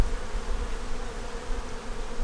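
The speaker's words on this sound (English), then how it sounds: "The bees are coming in and out." Honeybees fly in and out of a hive with a deep brood box, producing a close, steady buzzing drone that holds throughout with no voices.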